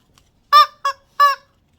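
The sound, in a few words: chicken sound effect toy from a Dollar Tree haul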